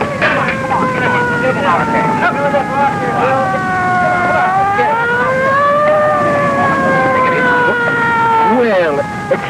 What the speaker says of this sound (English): We gotta get that siren going.